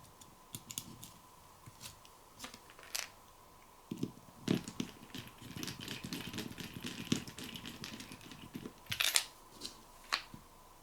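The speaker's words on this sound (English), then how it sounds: "put the cover over. And go ahead and screw it back in place." Small screws are driven back in to secure the cover on a Xiaomi Black Shark Helo phone, with faint close ticks, taps and scrapes of a small screwdriver on the handset and no talking.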